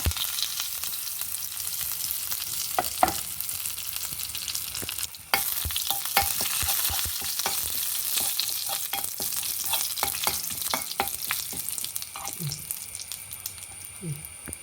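Spices and neem sizzle in hot oil for a cucumber seed thambuli tempering, with a steady crackling hiss, punctuated by clinks and scrapes of stirring; a brief break midway.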